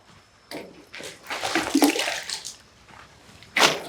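Bursts of spraying, splashing water hitting the hard surface of a container cabin, starting and stopping several times, fairly close with no talking.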